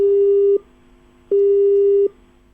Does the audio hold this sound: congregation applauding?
no